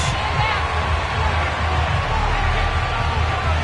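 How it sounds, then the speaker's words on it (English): Stadium crowd noise from the Madden 22 football video game, a steady broadband roar of fans filling a Week 6 NFL matchup against the Kansas City Chiefs, continuous and fairly loud with no clear talk. "this crowd is ready to go"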